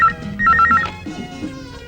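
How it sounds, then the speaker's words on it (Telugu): A telephone rings indoors in a domestic scene from a Telugu film, sounding two bright, trilling bursts of ringing in quick succession, fairly loud and close, followed by low background rumble with no talking. "ఫోన్ తీయండి."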